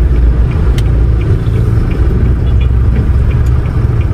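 A large vehicle rumbles past on a highway in a loud, continuous low drone of road and engine noise, heard from inside a moving vehicle, with no talk.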